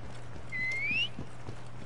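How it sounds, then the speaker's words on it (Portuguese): Horse hooves clip-clopping in a steady walking rhythm in the Assassin's Creed Origins video game, with a thin whinny-like rising tone partway through, quiet over a low game hum. "Eu vou chamar o cavalo"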